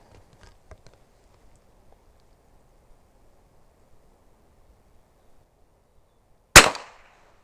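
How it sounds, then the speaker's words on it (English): A single sharp, loud .22 rimfire shot from a Savage Model 24 combo gun rings out near the end outdoors, preceded by faint handling rustles and quiet background. "So let's take that first 22 shot."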